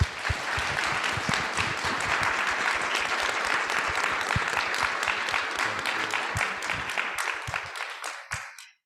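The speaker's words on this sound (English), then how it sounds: "One more round of applause" Enthusiastic applause from a symposium audience, dense and sustained for about eight seconds with some louder individual claps near the front, tapering off to a few final claps and then silence.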